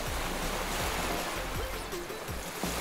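Water waves in a children's adventure show: a steady, fairly loud rush of surf that runs through the whole stretch, with faint tonal sounds drifting over it.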